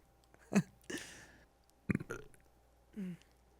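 A woman burps several times in a row: two loud, throaty burps close together, then a softer, drawn-out one after a pause, with no talking in between.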